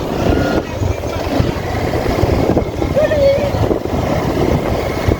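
A motorcycle rides through the town of Guacarí, giving a steady, close engine drone mixed with rushing wind noise.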